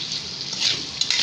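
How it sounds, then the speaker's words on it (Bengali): Potato pieces with turmeric and salt frying in hot oil give a steady, close hissing sizzle, briefly swelling near the end as the pieces are stirred. "এখন আমি এই আলুগুলোকে বাদামি কালার করে ভাজবো।"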